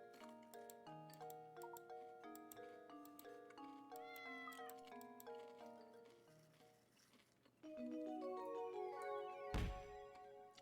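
A cat character in a puzzle video game meows amid bright, stepped in-game musical tones and chimes, with a louder shimmer of effects near the end.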